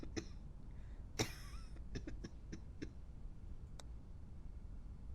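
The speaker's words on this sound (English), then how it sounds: "Coughing is a forced exhalation, yes." A single quiet video game cough, as a possible sign of infection, rises out of a low background hum, followed by a few faint, scattered clicks.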